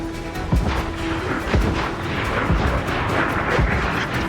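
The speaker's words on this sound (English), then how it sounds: "Dodging the mortars." Mortar fire at sea in Assassin's Creed Black Flag lands as a series of about five heavy booms, roughly one per second, over a continuous roar of wind, water and battle noise.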